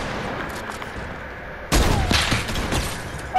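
Fortnite gunfire: a muffled, quieter stretch gives way to a sudden loud burst of shots, followed by a dense, noisy fusillade of cracks and booms that fills the remaining seconds.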